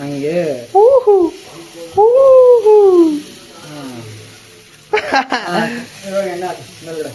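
Dosa batter sizzles on a hot pan as a steady hiss beneath loud, close speech from people talking nearby.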